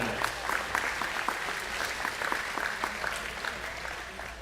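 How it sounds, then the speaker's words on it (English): A school agriculture appreciation night audience gives a steady round of applause, dense clapping sustained evenly throughout at a moderate distance. "Let's give everybody a round of applause for helping us tonight."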